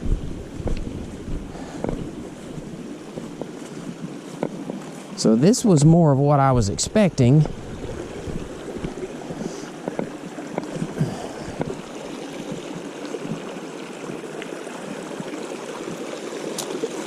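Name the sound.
water flowing in a stream along a hiking trail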